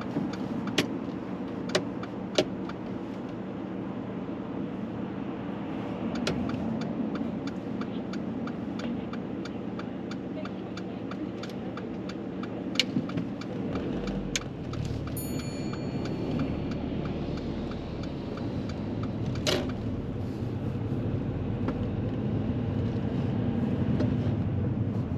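A manual-transmission car pulls away from a roadside stop in the UK: a steady low engine drone with faint ticks and clicks inside the cabin, rising slightly as it moves off, with no talking.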